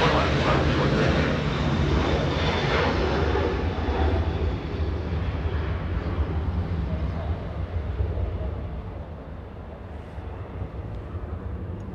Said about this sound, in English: Almost a rocket launch, but lifted off a little too late.